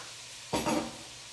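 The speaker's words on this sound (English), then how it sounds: "Ooh, you hear that sizzle?" A sudden loud sizzle as water is poured over chickpeas in a hot pot, a short hissing burst that fades quickly.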